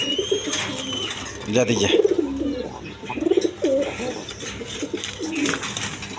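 A pair of red king pigeons at a breeding farm coo repeatedly in low, rolling phrases close by, while someone speaks briefly over them.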